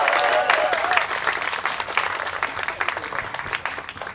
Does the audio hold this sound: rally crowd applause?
yes